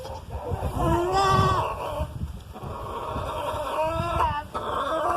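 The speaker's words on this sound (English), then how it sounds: "Lots of goats now." Several goats, including Boer goats, bleat close by, wavering cries rising and falling over one another, with soft background rustle between calls.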